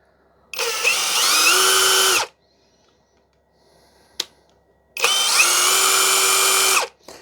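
A Litheli U20 brushless impact driver running in wood mode gives two loud, steady whirring bursts of about two seconds each, with a short click between them, close by and with no talk.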